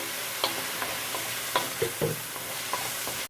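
Carrots water-frying without oil in a pan, stirred now and then: a soft steady hiss with scattered light scrapes and taps of the utensil, close and fairly quiet, no voices.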